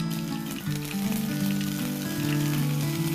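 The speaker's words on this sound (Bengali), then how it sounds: "তেলটা গরম হয়ে গেছে এবার আমি সর্ষেটা ফোড়ন দেবো" Mustard seeds tempering in hot white oil give a dense, continuous sizzle and crackle at close range, steady and fairly quiet, with a low tonal hum running beneath and no voices.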